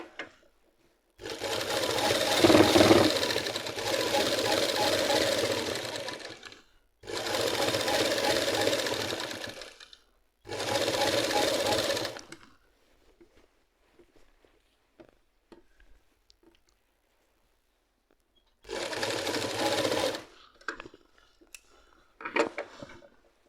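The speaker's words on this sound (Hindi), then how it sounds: "तो मैं इसीलिए मैं आराम से सिल रहा हूँ इसको" Domestic sewing machine stitching a gents' pajama, running in several steady bursts of a few seconds each with short pauses between, close and fairly loud, without any talking.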